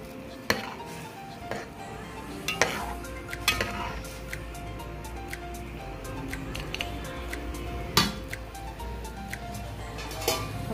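Rice being stirred in a cooking pot, with a spoon clinking and scraping against the metal in irregular knocks over a low bubbling background.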